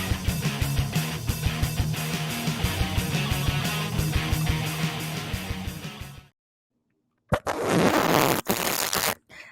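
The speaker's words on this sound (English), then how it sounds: "that was me attempting to start with the fart noise" A fart noise sound effect: upbeat music plays, cuts to silence, then a single loud, rough blast about two seconds long sounds on its own near the end.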